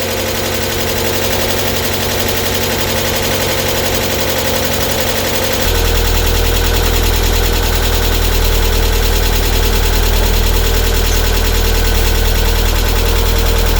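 A Mazda MX-5 engine idles loudly and continuously nearby, with a rough, raspy, puffing exhaust note from a downpipe exhaust leak and a slight shift in tone partway through.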